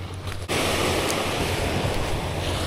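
Wind roars into the microphone by a river near the sea, a continuous loud rush of broadband noise after a brief dip at the start.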